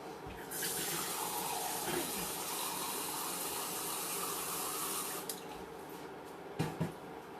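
Tap water runs steadily into a measuring cup in a home kitchen, filling about 1.5 cups for a pepper steak recipe; a continuous close hiss lasts about five seconds, then stops, followed by a couple of brief clinks.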